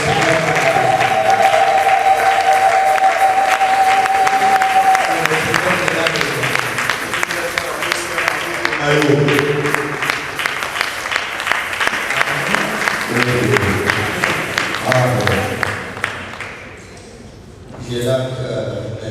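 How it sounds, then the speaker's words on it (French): A church congregation claps and cheers at an evangelical cathedral service, sustained loud applause with music and voices mixed in, fading briefly near the end before swelling again. "le pasteur Béroy a besoin d'applaudissements"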